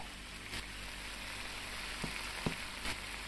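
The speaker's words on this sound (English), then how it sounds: "we're gonna fry some egg up" An egg frying in a pan in the Cooking Simulator VR game, a steady close sizzle with a few faint clicks and taps over it and no talk.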